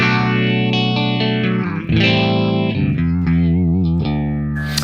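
Electric guitar through a Donner mini effects pedal with every setting maxed out: sustained, heavily modulated and distorted chords with swirling chorus-like sweeps and echoing tails, loud and continuous with no talking.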